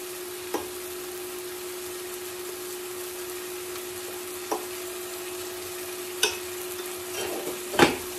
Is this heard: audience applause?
no